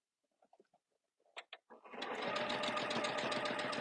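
A sewing machine tacks quilt binding, starting after a few soft clicks with a steady, close, fast stitching rattle that runs on alone.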